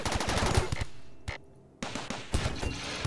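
Gunshots in Rimworld rattling in rapid machine-gun-like bursts, loud and close, breaking off briefly into near silence before the firing resumes.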